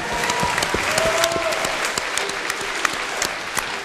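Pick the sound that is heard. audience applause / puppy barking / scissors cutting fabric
audience applause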